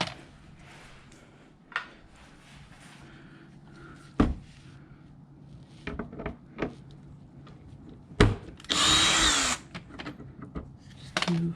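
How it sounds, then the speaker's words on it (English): A power drill removes headlight bolts on a 2014 Lexus LS 460, a single short whirring burst near the end amid scattered clunks and handling knocks, close and moderately loud. "now I'll start removing these bolts."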